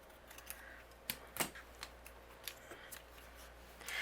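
Scissors snip through a strip of cardstock being trimmed for a handmade Christmas card, several quiet, separate cuts close up, with small rustling handling sounds in between and no talking.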